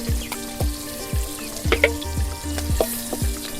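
Eggs frying in hot oil for a Bengali dim sundori dish, a steady sizzle with repeated scraping taps of a utensil against the pan, close and continuous with no talk.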